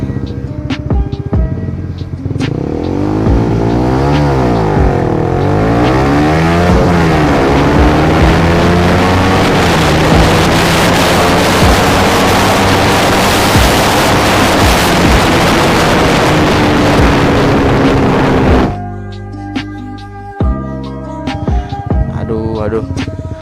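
A motorcycle engine revs hard during launch-start practice, its pitch sweeping up and down in loud repeated surges for most of the time before dropping back to a rough, uneven idle.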